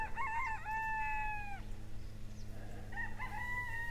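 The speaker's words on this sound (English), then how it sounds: "There's the rooster. You hear the rooster." A rooster crows loudly nearby outdoors near Mount Arbel, one long drawn-out call followed by the start of a second, over a low steady background hum.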